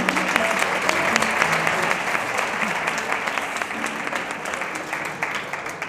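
Audience applause at a beauty studio inauguration, a full round of crowd clapping that is loud at first and eases off gradually over several seconds, with some voices mixed in.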